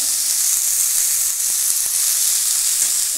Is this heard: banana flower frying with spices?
yes